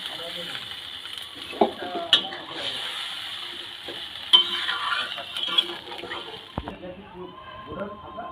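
Water poured into a pan of frying spice paste and potatoes, causing a loud splash and a burst of hissing sizzle, with clanks of a utensil and a voice talking over it.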